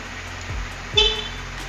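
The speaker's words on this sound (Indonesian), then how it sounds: "klakson juga nyala" A short horn toot from a 2020 Honda CBR250RR rings out over its steady, smooth engine idle, a single brief honk standing out clearly near the end.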